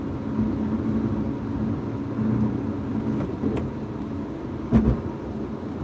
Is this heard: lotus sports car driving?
yes